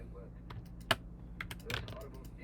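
Keys clatter on a computer keyboard in irregular bursts of close, light clicks with one sharper stroke, over a low steady background hum.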